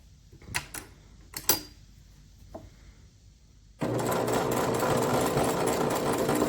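After a few sharp clicks and taps, a Singer sewing machine starts stitching a double wedding ring quilt, settling into a steady, close, continuous mechanical whir for the rest of the clip.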